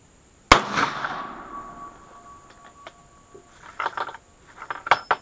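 A single loud, sharp shot from a 450 Bushmaster rifle firing a reduced W231 powder load with cast bullets, followed by a ringing decay and then lighter metallic clatter and clicks from the action a few seconds later.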